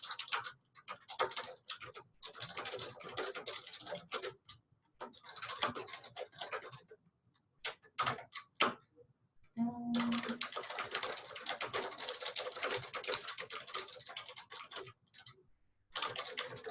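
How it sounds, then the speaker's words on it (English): Typing on a computer keyboard, with long runs of rapid, steady key clatter separated by short pauses, close and moderately quiet, no talking. "I'm going to type in what we have"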